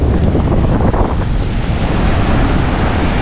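Strong wind blows steadily beside a river, roaring and buffeting the microphone with a loud, continuous rush like surf, no voices heard.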